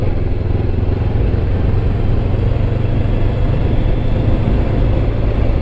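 A 2020 Honda CB500X motorcycle being ridden: a loud, continuous engine drone with a steady low rumble and wind roar, no voices.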